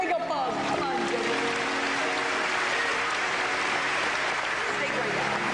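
A church congregation at a Holy Spirit service applauds in a steady, dense wash, blended with ongoing music and voices throughout.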